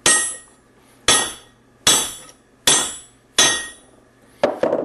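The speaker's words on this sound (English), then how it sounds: "Now this is a hardened steel hammer. Now time for the bronze." Hardened steel hammer striking an aluminum bronze ingot, five loud, ringing metallic blows at an even pace, each decaying before the next, followed by a quick cluster of lighter knocks.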